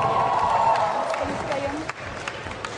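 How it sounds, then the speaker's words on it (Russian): An audience applauding and cheering at a dance competition ball with a rumba formation event, a crowd clapping under an announcer's amplified voice, fading slightly toward the end. "аплодисменты"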